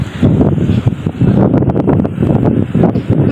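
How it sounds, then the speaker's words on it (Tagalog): Strong wind buffets the microphone outdoors on a boat, with loud, gusty low rumbling throughout and a few brief rattling clicks. "Malamig ang hangin."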